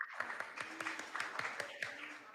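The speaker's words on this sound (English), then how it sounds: "A round of applause for Andrew." A small group applauds at a school quiz competition, a faint burst of quick, uneven handclaps at moderate distance in a room, with no talk over it.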